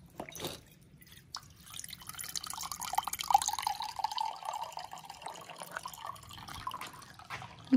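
Water runs from a water cooler in a steady pouring and splashing stream that picks up after a soft start, heard close with scattered drips and no talk.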